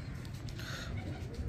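A pigeon at a breeder's loft gives a low, soft, rolling coo, faint and close, with a steady murmur around it.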